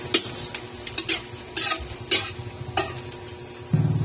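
Food fries in a pan at a steady sizzle, broken by several sharp scraping stirs and clinks of a utensil, with a louder burst of sizzling at the very end; no one speaks.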